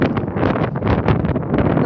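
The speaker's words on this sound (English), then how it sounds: "We have a windy, sunny day today." Gusting wind on a sunny outdoor day buffets the microphone with steady broadband rumble and rustle, swelling and easing in uneven surges throughout, loud and close, with no voices.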